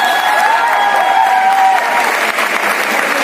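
Steady audience applause fills a motivational speech event hall, many hands clapping continuously and loudly with a faint tonal whistle or feedback early on, no talking.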